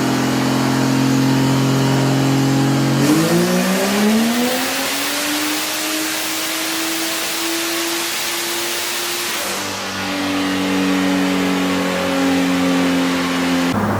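An 800-horsepower Vortec 4200 inline-six in a car with a blown connecting rod revs loud and close, its pitch climbing and holding in a long high wail before shifting back down through several steady drones.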